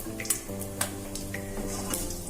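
Mustard seeds, cumin and fenugreek fry in hot oil for a turberry berry sambar, giving a steady soft sizzle with a few light crackles and pops close by, no voices.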